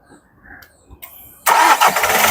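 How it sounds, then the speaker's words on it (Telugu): A Kia Seltos HTK+ diesel SUV, 2019/20 model, cranks briefly after a quiet moment and fires on the first try, then settles into a loud, steady diesel idle close by. "సింగిల్ సెల్ఫ్లో బండి స్టార్ట్ అవుతుంది సార్."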